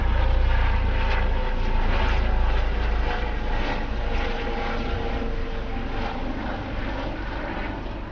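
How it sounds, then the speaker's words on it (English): A helicopter flies low overhead above an allotment, its engine roar loud and continuous and fading slowly over several seconds, with no talking. "just as that plane went over a helicopter, actually, really quite low"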